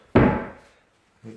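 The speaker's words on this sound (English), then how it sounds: "and the door closes" A newly fitted door in a house under renovation swings shut with a single loud, close thud that fades quickly, followed by a softer knock a moment later.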